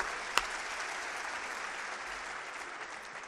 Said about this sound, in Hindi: आप एक बार तालियां बजा दें।